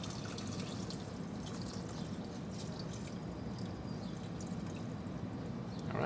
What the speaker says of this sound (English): Let's add some water.